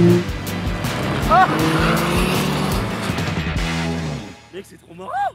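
A turbocharged tracked buggy churns through powder snow at a ski resort, its engine roaring loud and steady up close, with excited voices shouting over it before the noise drops away near the end.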